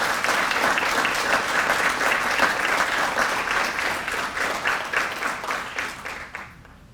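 A conference audience at a tribal education event gives a sustained round of applause, dense steady clapping that holds for several seconds before thinning and fading out at the end.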